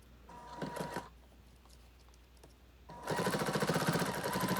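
A sewing machine stitches webbing onto a backpack strap connector in short runs, a rapid close mechanical chatter that starts, pauses, then resumes louder and steadier.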